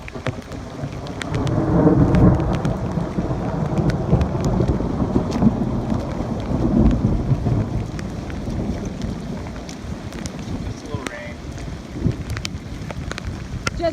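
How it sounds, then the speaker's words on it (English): Heavy rain pours steadily on Lake Michigan while thunder rumbles and cracks throughout, with gusts of wind in a sustained, close storm heard from a boat. "the storm was moving kind of northwest to southeast, we saw just a tremendous amount of lightning"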